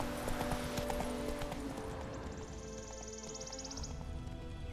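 Galloping horse hooves from The Witcher 3: Wild Hunt, a steady clip-clop rhythm under game music and ambience, with a brief whinny-like tone partway through.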